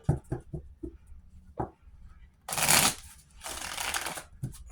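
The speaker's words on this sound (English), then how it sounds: "I was going to do a couple of real shuffles" Two bursts of card shuffling, a long riffle followed by a second, after a few soft taps and thumps at the start.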